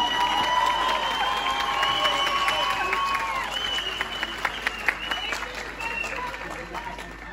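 Applause from a crowd welcomes the Bayramiç mayor to the podium at a public gathering, steady clapping with scattered cheers throughout, slowly thinning toward the end, while a voice speaks over it.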